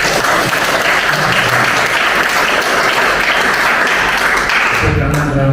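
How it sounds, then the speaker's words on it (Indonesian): Loud, dense applause rings through a university faculty auditorium during an Ayurveda Day event, sustained clapping that carries on until a voice cuts in at the end. "Tepuk tangan ramai."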